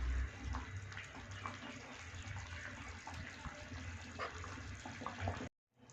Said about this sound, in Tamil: இந்த அளவுக்கு நல்லா கொதிக்க விடுங்க